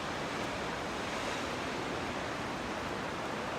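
Ocean waves on a stormy shore near a backpacking campsite, a steady broad roar of surf with no breaks and no voices.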